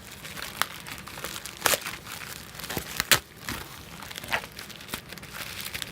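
A standard shipping envelope cut and pulled open with purple scissors, close crinkling of paper and plastic with a few sharper tearing snips, no talk.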